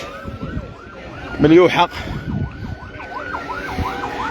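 An ambulance siren at a fatal road accident on a Moroccan road, its wailing tone rising and falling repeatedly over traffic rumble, with a brief loud burst near the middle and a voice speaking.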